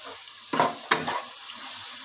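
Softened vegetables, including carrots, fry in a pan for vegetable chow mein. A low hiss runs underneath, broken by two or three quick spatula scrapes and clacks.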